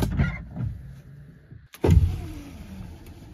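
A 1968 Imperial Crown's 440 V8 engine cranks in short bursts, pauses briefly, then catches and fires with a sudden loud start before settling; close and alone.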